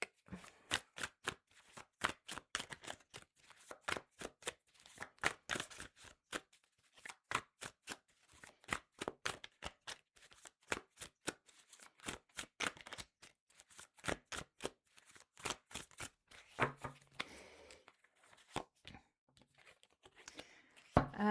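A 108-card oracle deck being shuffled close up, a long run of crisp riffling snaps and slaps in quick irregular bursts with brief pauses, quiet and alone.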